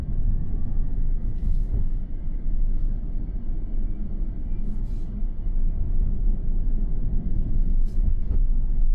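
A Tesla Cybertruck driving on a curvy mountain road, heard as a steady low rumble of road and tire noise with little variation, continuous and fairly close, without talk.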